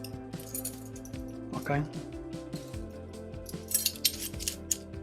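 Metal teaspoon clinking against containers while measuring an additive for a green grape pyment mead, a string of light close chinks and taps, with a voice speaking briefly over them.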